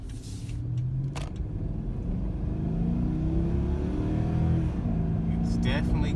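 A Hemi V8 in a Dodge Charger runs nearby with a deep, steady rumble and a brief rise in revs partway through, plus a few sharp clicks and knocks around it.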